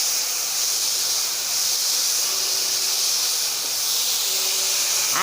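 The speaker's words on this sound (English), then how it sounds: "You need not burn the onions, but it should become little bit translucent." Onions frying in a pan for mooli oats, a steady broad sizzling hiss that holds evenly throughout at close range, with no talking.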